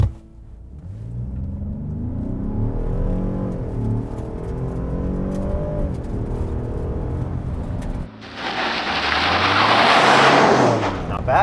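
A 2021 Ford F-150 Limited PowerBoost hybrid with a 3.5-liter V6 accelerates hard without launch control: a deep engine drone climbing through gears with shifts, then a loud rushing roar of wind and road noise.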